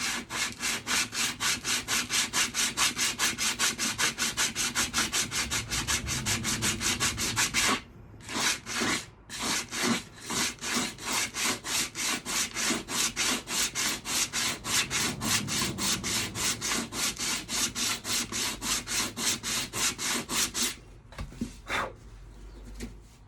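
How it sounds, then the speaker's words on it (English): A custom motorcycle helmet piece is sanded by hand in quick, even back-and-forth rasping strokes, close and continuous with two brief pauses, while birds call faintly in the background. "I'm going to start trying to sort of sand that piece out"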